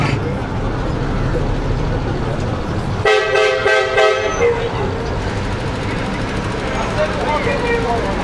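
Busy street traffic in Aleppo rumbles close by, with a loud multi-toned vehicle horn blaring for about a second in the middle, set against steady engine noise and chatter.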